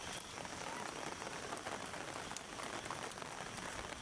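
Steady, dense rain pattering on a surface, a continuous close wash of drops with no voices.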